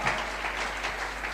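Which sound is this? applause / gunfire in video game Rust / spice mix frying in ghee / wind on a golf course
applause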